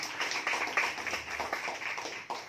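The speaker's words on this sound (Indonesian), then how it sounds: "Beri tepuk tangan dulu untuk Tuhan Yesus" A church congregation claps in praise during a sermon, with scattered, moderately quiet clapping and taps from a gathered crowd, continuing briefly.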